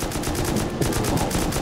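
Rapid automatic gunfire in the online survival video game Rust, a dense, steady string of shots in even rhythm, loud and continuous with no talking.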